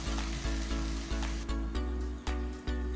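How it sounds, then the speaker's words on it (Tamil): Cauliflower, potatoes, white peas and carrots sauté in a hot pan for veg pulao, a steady sizzle broken by regular stirring thumps and scrapes roughly every half second. "உருளைக்கிழங்கு, வெள்ளை பட்டாணி, கேரட்டு எல்லாமே போட்டு நல்லா வதக்கிக்கலாம்"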